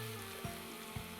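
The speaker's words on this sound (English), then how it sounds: "That's what you want to hear, this nice sizzle, and you can already start to smell the coconut oil." Coconut oil sizzles in a pan while cooking a lentil and quinoa burger, a steady soft frying hiss with two faint pops, close and quiet.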